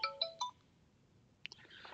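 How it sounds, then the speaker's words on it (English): A phone rings during a live coding session, with a few short bright tonal chimes at the start and then a fainter electronic trill near the end, heard alone at modest volume. "sorry about the phone call."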